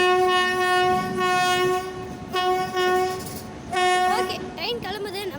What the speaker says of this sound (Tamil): ஓகே, ட்ரெயின் கிளம்புது.